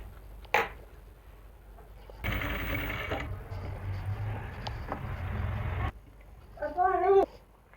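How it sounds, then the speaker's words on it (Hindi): A sewing machine stitching elastic onto palazzo pants runs in a steady whirring burst for several seconds after a brief click, quiet and close, with a short voice-like sound near the end. "यहाँ पे ऐसे रखते हुए एक सिलाई इलास्टिक के ऊपर से लगाएंगे।"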